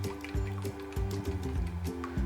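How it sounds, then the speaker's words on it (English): Four eggs are beaten lightly in a bowl for oyakodon, giving soft, wet clicking and squishing strokes in a quick repeating rhythm, close and fairly quiet. "We have 4 eggs here. Beat it."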